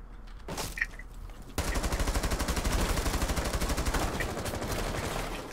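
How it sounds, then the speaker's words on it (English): Sustained rapid gunfire in the video game Rainbow Six Siege erupts after a short lull, a loud, fast stream of shots rattling on for several seconds. "Where is all this goddamn gunshots coming from,"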